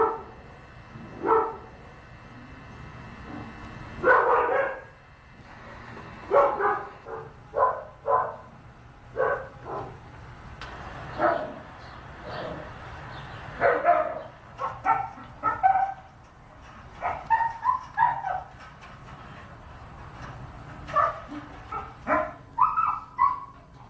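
Dogs bark in a recording played back day and night, giving repeated yips and bow-wows in irregular bursts, some of them doubled. The barks sound moderately close, with brief quiet gaps between them and no talking over them.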